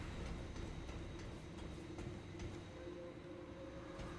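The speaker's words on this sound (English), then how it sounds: "That's the train." A train in the video game Remnant 2 gives off a steady, low rumbling drone with faint rhythmic clacks, continuous and distant throughout with no voices.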